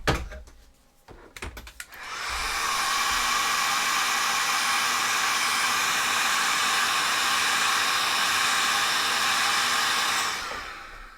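A heat gun blasts a steady, loud, close airflow roar on a Sisters of Battle cosplay prop handle, starting after a few handling knocks and running continuously for about nine seconds before cutting off.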